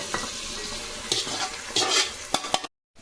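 A spiced fish mixture sizzles in a pan with scraping stirs and a few sharp clinks of a utensil, then the sound cuts off.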